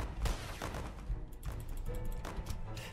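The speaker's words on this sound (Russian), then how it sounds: "Куда ты стреляешь? Я неправильно стрельнул." Gunfire in the tactical army game Colonel Clone Armies: a rapid run of sharp shots and thumping blasts over a dense, noisy battle bed, loud and close, with no speech.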